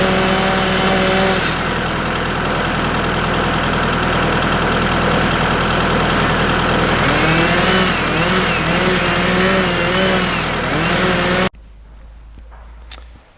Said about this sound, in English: we're going to wrap a chain around it, use the tractor, and then cut it and pull it down